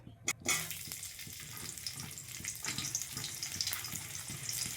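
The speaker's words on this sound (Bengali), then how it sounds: "পেঁয়াজটা একটু করে ভেজে নিতে হবে ভালো করে" Onions fry in a pan at the start of a fish curry, giving a quiet, continuous crackling sizzle with soft repeated stirring taps after an opening knock.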